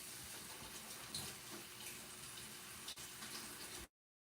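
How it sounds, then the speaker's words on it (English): A cooking utensil being rinsed under running tap water, heard as a steady close water rush with a brief clunk near the end before it cuts off abruptly. "Let me rinse this off."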